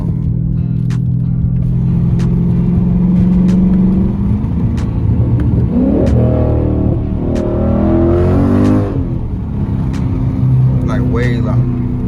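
Loud car exhaust with 5-inch tips and a muffler or resonator delete, droning steadily with rising revs partway through, under ongoing talk inside the car.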